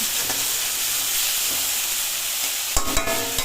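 Meat frying in a pan, a continuous loud sizzle and hiss with a few scraping stirs near the end, close and alone with no talk.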